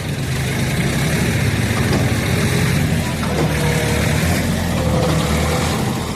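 A John Deere 5036 tractor straining to pull a stuck trolley free, its heavy engine droning loudly and continuously up close with a rough, labouring rumble.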